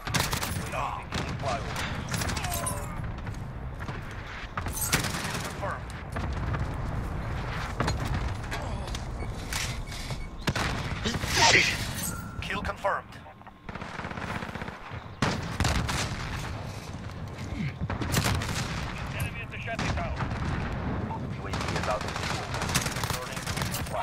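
Rapid automatic rifle fire from an M4A1 in Call of Duty: Modern Warfare crackles in dense, repeated bursts throughout, loud and close, with players talking over the shooting.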